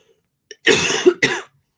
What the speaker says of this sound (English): my cough is coming now